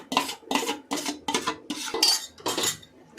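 A metal spoon scrapes and clanks against a cooking pot while rice is stirred into fried masala, about seven rhythmic strokes in quick succession, close and fairly loud with no voices.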